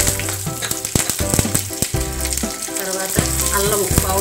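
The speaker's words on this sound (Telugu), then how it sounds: "కరివేపాకు వేయాలి." Curry leaves crackling in hot oil with peanuts for semiya upma, a loud close sizzle broken by sharp spatters and repeated clanks of a ladle against the pan.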